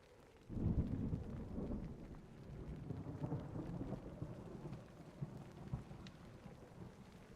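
Rain and rolling thunder in Minecraft, a low rumble swelling near the start over a continuous steady downpour that carries on evenly throughout, no voices.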